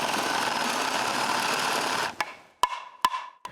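A power drill bores holes in a piece of wood, its steady whirring motor filling the first two seconds before stopping, followed by a few sharp knocks and clunks close by.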